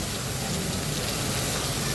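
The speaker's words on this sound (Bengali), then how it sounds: "এই 12:15টার দিকে বৃষ্টি নামলো।" Rain falling steadily around a home produces an even, unbroken hiss that stays at one level throughout, with no voices.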